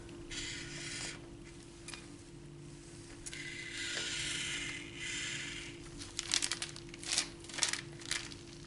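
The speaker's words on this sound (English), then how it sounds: "My parchment's coming off." Parchment paper on a frosting bag crinkling and rustling in a kitchen, faint bursts of crackle and crumpling that grow sharper and more frequent toward the end, over a low steady hum.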